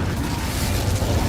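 Incendio fire spell cast in Hogwarts Legacy gameplay, a loud, dense roaring whoosh of flame with a deep rumbling body, sustained throughout without any voices.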